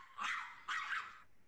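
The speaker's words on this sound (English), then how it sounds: "So this dog, if we think about that ladder of aggression, it's barking" A dog barks twice in quick succession in a home setting, two loud, separate bursts about half a second apart, close by with no talking.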